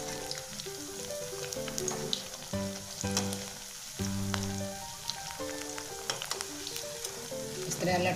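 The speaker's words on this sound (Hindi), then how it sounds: "इस तरह लटते पलटते हुए हम इनको धीमे धीमे सेक लेंगे" Crisp vadas of fresh coriander and flour sizzle gently in hot oil as they are slowly turned, a continuous crackling fry with occasional soft clinks and a faint tonal hum underneath; no talking.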